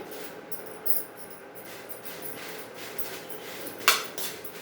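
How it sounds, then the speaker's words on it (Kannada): Guntur chillies dry roasting in a pan, with scattered metallic clinks and scrapes of stirring over a faint, steady background hiss. "ಮೆಣಸಿಕಾಯಿ ಹುರಿತಾ ಇದ್ದೀನಿ ನೋಡಿ ಸ್ವಲ್ಪ ಬೆಳಗ್ಗೆ ಸ್ವಲ್ಪ ಗುಂಟೂರು ಹುರಿತಾ ಇದ್ದೀನಿ"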